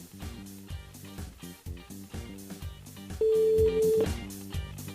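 A telephone is dialed during a live radio phone-in call. Electronic tones pulse in a steady repeating rhythm, with a brief sustained tone near the end, and no voices.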